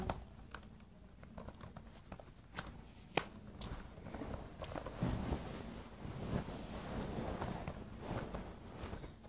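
A horse's hooves clip-clop in a comedic domestic scene, a loose irregular patter of light knocks and taps, fairly faint and close, with brief sharper clicks scattered throughout.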